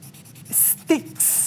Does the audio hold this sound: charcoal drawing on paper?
yes